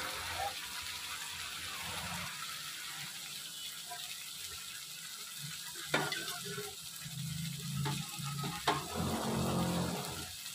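Spices fry in oil in a pan for a parse fish and brinjal curry, a continuous quiet sizzle with occasional scraping stirs and clinks.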